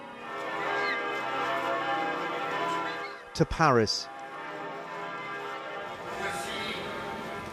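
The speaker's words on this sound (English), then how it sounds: "Throughout Europe, the bells of the great cathedrals tolled" Bells of great European cathedrals tolling for a papal mourning, a dense resonant ringing that fills the background and continues under a reporter's narration, with a brief separate burst of talk midway.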